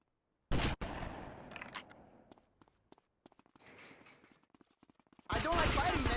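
Sniper gunfire in GTA Vice City: sharp loud gunshot cracks open and close the stretch, with scattered clatter, rustling and faint footstep-like knocks in between, no talking.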